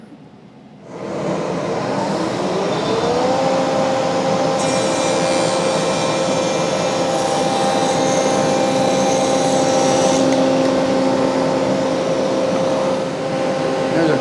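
Shopsmith jointer cutting a quarter-inch by quarter-inch rabbet in wood: the motor spins up, then a loud, steady whine with cutting noise runs for about ten seconds before easing off.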